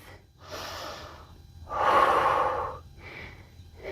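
Deep breathing during a warrior 3 yoga pose in a strength and mobility session: several slow, audible inhales and exhales, close and fairly loud, with no talking.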